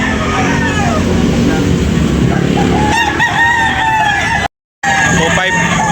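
Roosters crow and chickens cluck at a busy poultry market, several overlapping calls rising over steady crowd noise, with a brief dropout near the end.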